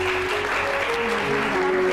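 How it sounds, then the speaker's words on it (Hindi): A studio audience on a TV cooking show set claps in a steady, dense wash that lasts the whole moment, with a faint voice beneath. "तालियां बजाएं पहले तो बहुत सारी इनके लिए।"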